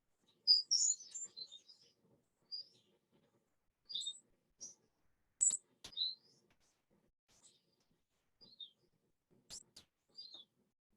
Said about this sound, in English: So you might recognize some of the birds calling in that.